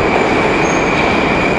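A Moscow subway train rumbles loudly and steadily, with dense roaring wheel noise and a thin high whine held throughout, very close and continuous.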